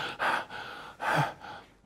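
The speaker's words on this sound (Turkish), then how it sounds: "Bak nefes alıyorsun." Two distinct sharp breaths drawn in close to the microphone, each a quick airy gasp, with a softer exhale trailing between and after them.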